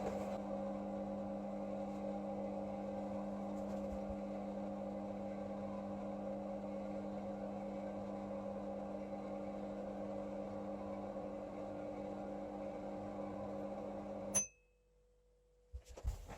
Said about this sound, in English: The microwave completed its use.